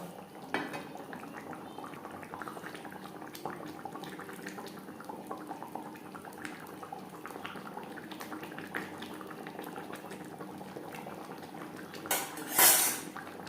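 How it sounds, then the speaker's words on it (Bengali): Sar puti fish simmering in curry gravy in a pan, a low steady bubbling with light clinks of utensils throughout, and a brief louder scrape near the end. "গ্রেভির সাথে মাছ আরও 3-4 মিনিট রান্না করব।"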